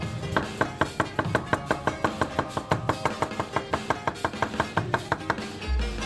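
A Teruyasu Fujiwara Denka nakiri knife chopping cucumbers on a cutting board, a rapid, steady run of crisp close knocks, about four per second, with brief pauses and no talking.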